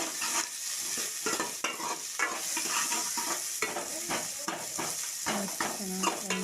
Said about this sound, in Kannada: ಫ್ರೈ ಮಾಡ್ಕೊಳ್ತಾ ಇದ್ದೀನಿ.